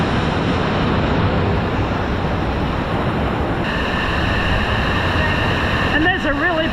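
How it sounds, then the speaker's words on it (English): A series of falls in the Grand Canyon at Blackheath, Australia, fills the space with a loud, steady rush of water that never lets up, and a brief voice surfaces right at the end. "we've got a series of falls here, which is really nice"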